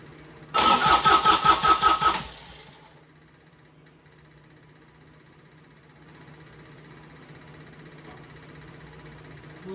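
A Yanmar B12 mini excavator's diesel engine cranks in a loud burst of rapid, rhythmic starter pulses for about a second and a half, then catches and settles into a quiet, steady idle.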